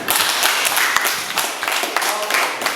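Students in an Indonesian classroom clap their hands together in a dense, steady patter that runs throughout, with a few voices mixed in.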